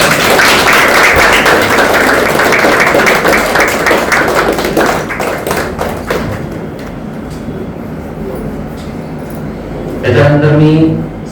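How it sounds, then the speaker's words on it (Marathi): An audience at a felicitation and welcome ceremony for Padma Shri Shankarbaba Papalkar breaks into dense, loud applause that thins out and fades. A voice briefly speaks near the end. "सगळ्यांनी टाळ्या वाजवा."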